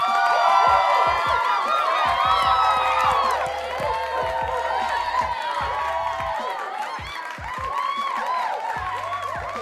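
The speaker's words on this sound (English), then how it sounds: "Once again, round of applause." A live crowd cheers, whoops and claps for a guest in the room at a Pittsburgh Steelers fan show, loud and sustained for about ten seconds, with high whistle-like shouts rising over the steady noise.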